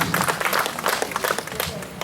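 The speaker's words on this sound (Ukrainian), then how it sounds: "Вітайте оплесками" A crowd gathered outdoors at the unveiling of a memorial stele for fallen soldiers in Poltava claps warmly to welcome speakers, a loud, uneven burst of applause with individual claps audible.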